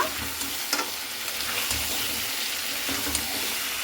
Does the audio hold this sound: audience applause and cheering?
no